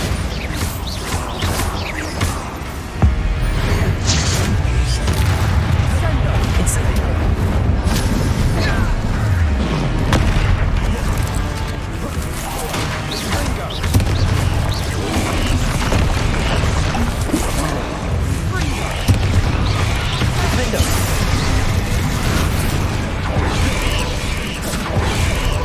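A Bombarda blasting spell explodes in Hogwarts Legacy: loud, heavy booms and crashing impacts over a dense, continuous wash of game sound and music, with no break in the noise.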